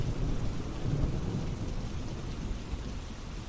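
Steady rain falls with low rumbling thunder, a dense, even wash of sound without voices.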